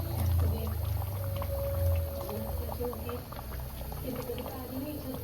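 Coconut paste being added bit by bit to a simmering crab curry, with a bubbling, gurgling boil and soft pouring splashes up close, a low hum running beneath.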